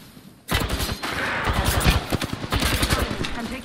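Rapid automatic gunfire from an Apex Legends match rattles in dense, close bursts, sustained for several seconds with overlapping shots and no spoken voices.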